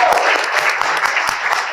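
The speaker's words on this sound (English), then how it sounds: "Round of applause" An audience claps steadily for the panelists and moderator at an evening community storytelling event, a dense, even burst of applause filling the room with no voices on top.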